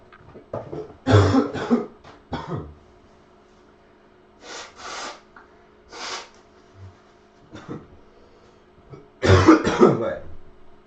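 A person coughs in repeated bursts near the microphone. The fits are irregular, with loud clusters at the start and end and quieter throat-clearing coughs and breaths in between.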